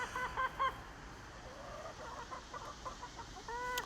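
Backyard chickens cluck and squawk in short bursts, a few sharp calls at the start and end over a quiet, faint outdoor background, with no talking.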